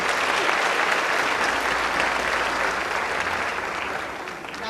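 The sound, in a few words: audience applauding at a festival ceremony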